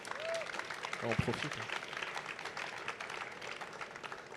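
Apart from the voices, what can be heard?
audience applauding award winners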